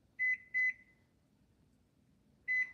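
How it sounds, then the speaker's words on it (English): A kitchen timer gives three short, clean electronic beeps as it is set, two close together and a third after a pause, near and moderately loud in a quiet kitchen. "So I'm going to set the kitchen timer for 12 minutes."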